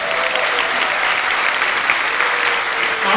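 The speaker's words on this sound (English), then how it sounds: "Give them a round of applause." A large live-show audience applauds with dense, steady clapping that holds at an even, full level for the whole stretch, with no voices standing out.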